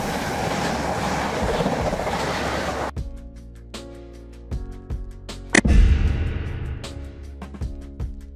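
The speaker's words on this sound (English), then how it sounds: "Intercity train. A train service that connects major cities" An intercity train rumbles past loudly at first, then fades to quieter clanks and rhythmic wheel clatter with a few sharp knocks.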